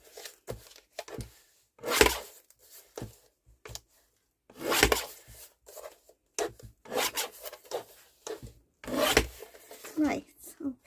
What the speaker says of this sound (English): Right, let me just trim that down. Oh, I've got my trimmer here beside of me.